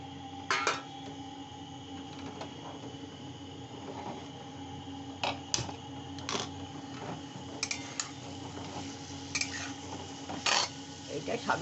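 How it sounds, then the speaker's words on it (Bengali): A spoon stirs prawns with taro stolons in a cooking pot for a traditional Bengali dish, producing sparse, faint clinks and scrapes against the metal over a quiet background hum. "এটা দিয়ে নেড়ে এবার চিংড়ি মাছটা দিয়ে দিচ্ছি।"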